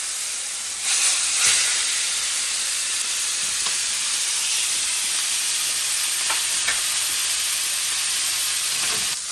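Deer steaks sear in hot avocado oil in a cast iron pan, giving a loud, steady, close sizzle and hiss that runs the whole time with faint crackles and no talking.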